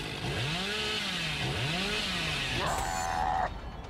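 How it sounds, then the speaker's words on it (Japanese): A chainsaw in the horror game Dead by Daylight revs up and down in rising, swooping surges, loud and close, then gives way to a brief higher mechanical whine before cutting off. "で僕はチェーンソーで切りたい、とにかくそれだけ。"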